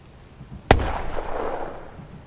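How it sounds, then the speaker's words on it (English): A grenade detonates in the tactical war game The Troop, one sharp loud blast followed by a rolling, fading rumble of debris and echo over a low battlefield background. "put another grenade in here."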